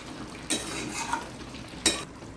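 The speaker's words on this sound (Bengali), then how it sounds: "ভালো করে কষিয়ে কষিয়ে রান্না করবো" Chicken curry being sautéed in a pan, a continuous soft sizzle broken by two or three louder scrapes of a spatula stirring the pieces, with no one talking.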